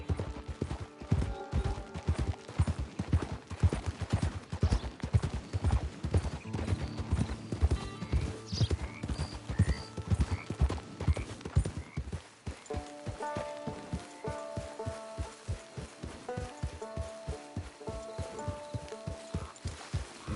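Steady clip-clop of horse hooves trotting close by in Red Dead Redemption 2 Online, with a brief whinny and music playing underneath.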